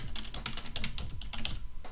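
Quick, steady keystrokes on a computer keyboard as a website address is typed in, a close run of crisp clicks with no voice over them.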